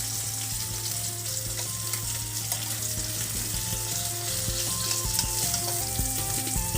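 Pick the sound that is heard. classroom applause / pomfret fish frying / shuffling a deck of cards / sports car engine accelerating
pomfret fish frying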